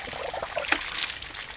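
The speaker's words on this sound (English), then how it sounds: "I'm gonna open up the valve on the drive pipe." Water rushes and trickles through the drive pipe of a ram pump just after its valve is opened, a steady close splashing flow with a brief sharper spurt.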